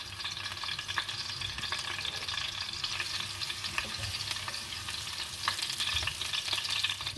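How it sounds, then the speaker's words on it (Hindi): Garlic cloves frying lightly in a pan for a stovetop mini pizza sauce, a soft, continuous crackling sizzle with scattered pops at moderate distance and no talk. "कुछ लहसुन के जवे डाल लेंगे। हल्का सा इसको फ्राई कर लेंगे।"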